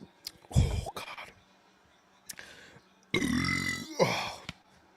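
A loud, drawn-out burp after chugging a drink, coming in two long bursts close to the microphone with short voiced noises before them.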